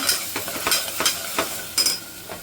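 Ghee and butter sizzle and spit in a hot pan for pav bhaji, a steady fry with bursts of stirring scrapes at a quick, uneven rhythm, close and fairly loud.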